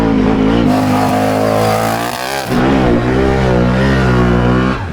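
A giant four-wheeler with a snorkel revs hard in a deep mud hole and launches, a loud sustained engine roar that dips briefly and then surges again, close and alone with no talking.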